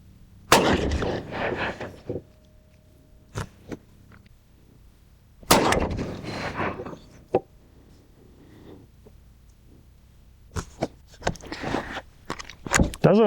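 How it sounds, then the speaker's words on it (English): Rifle shots fired from a lead sled rest at a range, three loud sharp reports spaced several seconds apart, each followed by rustling and handling noises, with no speech. "I hate shooting off this lead sled."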